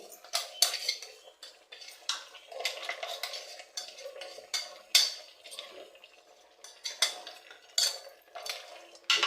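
Kori sukka masala being mixed in a pot with a metal spoon: rapid, irregular scraping and clanking of utensil against cookware, fairly close and sharp, with light sizzling underneath.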